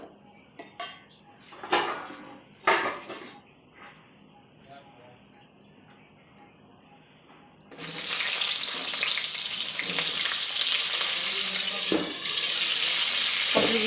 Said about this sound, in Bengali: এরপরে পটলগুলো ভেজে নেব, লো ফ্লেমে ভেজে নেব